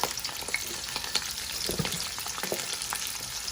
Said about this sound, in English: we are frying the rice